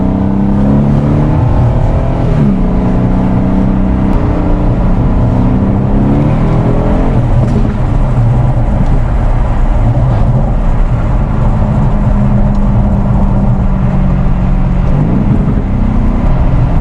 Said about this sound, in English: even just the stock exhaust on this thing sounds amazing, especially when it's opened up